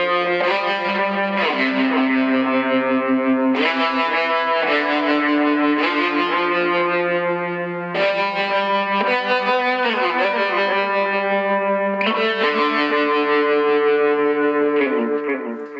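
Electric guitar picking single sustained notes through a tremolo pedal with a faster rate and slight delay for more repeats, a slow ethereal melody of held tones that pulse and trail off into echoes, played alone.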